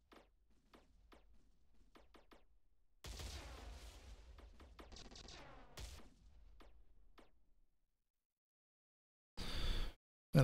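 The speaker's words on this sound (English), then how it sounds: "When in doubt, bring the missiles." Missile volleys in the space strategy game Star Drive 2 come as a few light ticks, then a dense burst of firing and explosions lasting several seconds, a pause, and another short loud blast, quiet overall with no speech.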